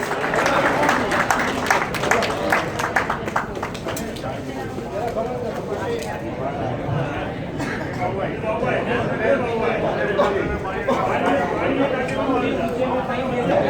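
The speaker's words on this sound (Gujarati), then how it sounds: "હેમલતાબેનને ઉપર તાળીઓ વાગતી રહેવી જોઈએ" An indoor crowd at a charity auction for the Manfara cow shelter (panjrapol) applauds an honoured family with steady, dense clapping throughout, while an amplified voice talks over it.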